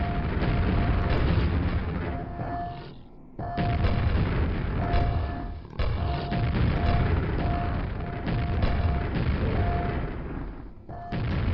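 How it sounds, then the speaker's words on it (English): Rocket launcher blasts in the classic shooter Quake: a series of deep, muffled booming explosions, each followed by a heavy rumbling tail, repeating every few seconds at close range with a dull, low-fidelity tone. "that's a rocket launcher"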